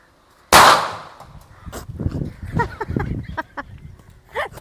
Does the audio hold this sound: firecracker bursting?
yes